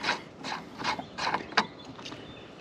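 Metal e-bike pedal being threaded into a crank arm by hand, giving a run of soft, evenly spaced ratcheting clicks, about six close turns with no talking.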